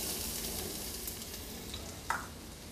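Onion sizzles in olive oil in a pan, a steady close crackling hiss with a brief sharper pop near the end.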